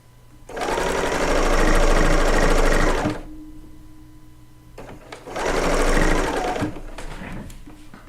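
Serger sewing machine stitching quilt fabric for a decoupage trip quilt: two loud, fast mechanical runs of about two and a half seconds and one and a half seconds, separated by a quieter pause with handling noise.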